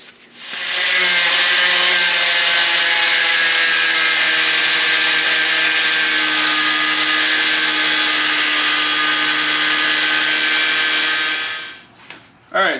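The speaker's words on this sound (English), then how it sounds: "I'm going to take my angle grinder" An angle grinder cuts through a part on an R56 Mini Cooper S, a loud, steady high-pitched whine held for about eleven seconds before it spins down and stops.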